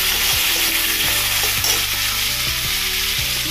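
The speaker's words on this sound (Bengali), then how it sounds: "এখানে অমিতাভ ভাত ভাজা আজকে রেডি করে রেখে দেবো" Rice fries in a hot pan with a loud, continuous sizzle, broken by regular scraping knocks of a spatula stirring it, close up with no talking.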